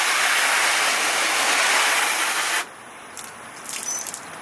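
Steady broadband water spray rinsing a ceramic-coated BMW, loud and continuous for about two and a half seconds, then cutting off abruptly, leaving faint drips and light splashing afterward.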